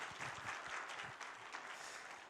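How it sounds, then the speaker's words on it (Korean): A church congregation at a Christmas service applauds together in a dense burst of clapping that sounds somewhat distant and soft, then gradually thins out. "들어갈 때까지 박수 한번 할까요?"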